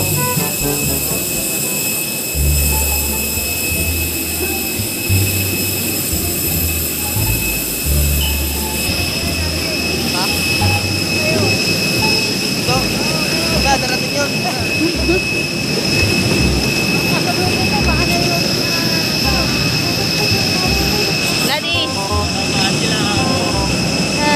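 Steady jet engine roar and whine of an airliner heard at close range while passengers disembark on a trip to Boracay, with people talking and moving over the continuous drone throughout.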